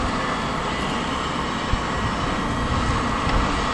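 A city truck stuck in deep blizzard snow revs its engine while its wheels spin, giving a steady, loud drone that holds throughout with a couple of brief bumps and no voices.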